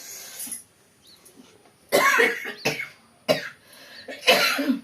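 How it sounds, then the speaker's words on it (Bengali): Persistent cough, several harsh close coughs in separate bursts with throat clearing and breathing between them, no speech. "সর্বদাই আমার সারাক্ষণ মানে কাশিটা লেগেই আছে, কাশিটাতে এত জ্বালাচ্ছে"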